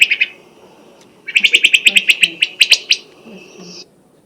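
Wood thrush song in a northeastern woodland: a brief fluty phrase, a pause, then a rapid run of bright repeated trilling notes, clear and fairly close against a quiet background.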